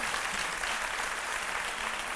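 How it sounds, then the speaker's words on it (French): A studio audience on a midday television show applauds a sports winner, the clapping dense and steady throughout, a continuous even wash at moderate distance. "Encore une fois, applaudissements pour Loïc."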